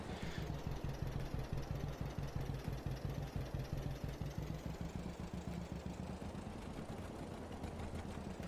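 A tractor engine in a farming video game idles steadily in a continuous low, rhythmic chug that stays loud and even throughout.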